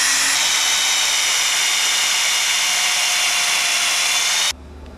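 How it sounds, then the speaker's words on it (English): A power drill bores holes through wood for a treadle lathe bobbin, giving a loud, steady high-pitched whine that runs for several seconds before stopping abruptly. "I'm going to make some holes in here for the cord from the treadle to go through"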